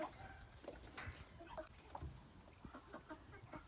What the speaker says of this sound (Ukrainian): Тут у нас ось такі великі курчата